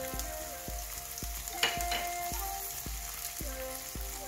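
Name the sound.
black pepper and ginger frying in ghee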